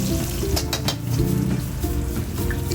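Crispy pork belly fries in hot oil, a dense, steady sizzle close by with crackling pops scattered throughout and no voices.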